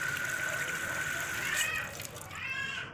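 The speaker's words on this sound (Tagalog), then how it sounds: "Ayan, nagdrain na." Water drains down a freshly unclogged kitchen sink, a continuous gurgling flow with splashy surges, close by and moderately loud.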